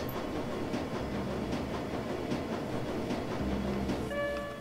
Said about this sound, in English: The train is speeding towards the crew bowser station